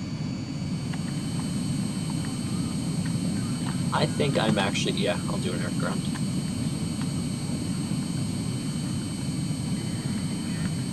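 A jet plane engine in the video game Arma 3 holds a steady low droning roar with a thin high whine, continuous and even throughout, while someone talks briefly over it in the middle.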